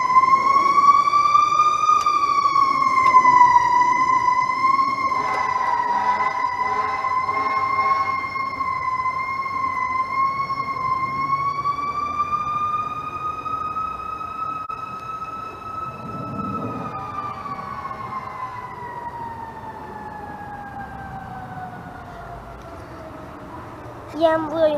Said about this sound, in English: I'm really sorry about the noise. There's just like police, firemen, ambulances.